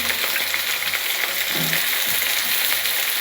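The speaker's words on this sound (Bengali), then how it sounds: "কাঁচা সবজিটা দিয়ে দিলাম" Raw vegetables for a Bengali panch mishali sabji hit hot oil with panch phoron in a frying pan, giving a loud, dense, continuous sizzle, close up, with a brief stir partway through.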